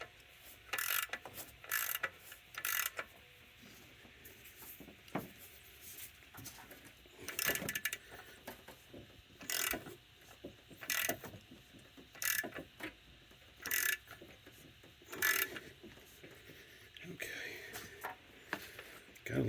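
A hand ratchet tightens a bolt on a 1994 Dodge Ram 3500 V10 truck, giving short bursts of rapid clicking repeated at irregular intervals, fairly faint, with quiet pauses between strokes.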